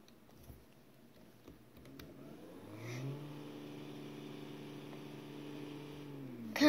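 Car engine in the City Car Driving game revving up from idle, a steady mid-pitched drone with strong harmonics that holds level for several seconds before a sharp loud burst at the end; no talking.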